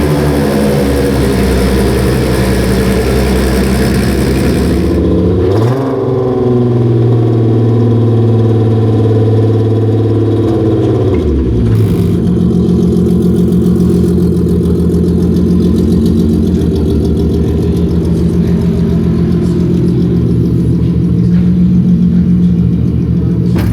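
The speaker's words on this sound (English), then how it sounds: "And this is the Golf 7, the GTI Roadster. And they started it up." Volkswagen Golf 7 GTI Roadster concept car engine starting up and settling into a loud, steady idle with a deep rumble, a brief dip and restart partway through, then continued even idling up close.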